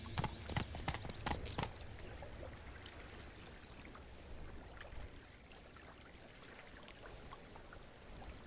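Hooves of Roach, a horse in Witcher 3, clip-clop in a quick galloping rhythm that is loud at first and then fades into a softer, steady trot over a flowing outdoor ambience.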